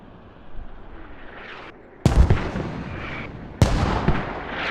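Mortar or artillery fire in the video game Squad: two sharp, heavy booms about a second and a half apart, each followed by a rumbling decay, over a lower background of distant battle noise.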